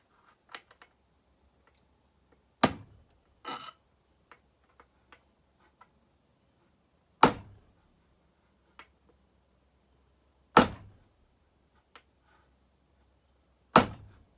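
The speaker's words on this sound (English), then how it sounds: "So now I'll take my punch again, go back this side, give her a swack" A metal punch hammered to drive a clutch-side crankshaft seal into a Pioneer P40 engine case: four sharp, loud, isolated strikes spaced a few seconds apart, with faint light taps and rattles between them.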